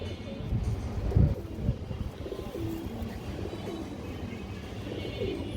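A male Muslodom pigeon coos in low, wavering murmurs amid a busy background, with a few louder thumps near the start and soft rustling throughout.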